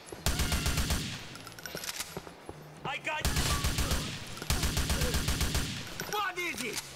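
Rapid bursts of automatic gunfire in Grand Theft Auto IV rattle loudly in several long volleys, separated by short gaps. Voices shout between and under the shots.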